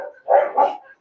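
A dog at a kennel in Hyderabad gives a quick double bark, loud and close, two short gruff yaps in about a second.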